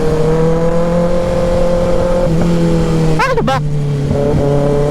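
Motor tricycles and traffic drone along a city road at night, a loud, constant engine rumble close by with a passing horn-like warble partway through, while a voice briefly speaks.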